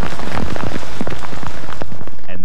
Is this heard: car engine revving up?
no